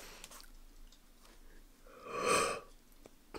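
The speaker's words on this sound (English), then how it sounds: "Sorry, that was a stifle yawn." A single muffled, breathy yawn swells briefly in a quiet room, rising and fading over about a second.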